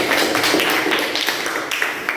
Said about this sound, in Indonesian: Aplaus buat kelompok 1.